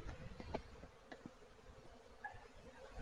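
Honey bees hum faintly around an opened beehive during an inspection, a low steady drone with a few brief closer buzzes passing by.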